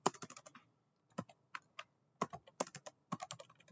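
Commands are typed into a Linux terminal on a computer keyboard, with crisp, close key clicks in quick bursts separated by brief pauses and no talking.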